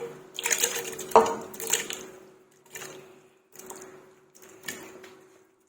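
Wet splashes and clinks in a metal pressure cooker pot as pieces of beef drop into water, several separate bursts, close by, with a faint steady hum underneath.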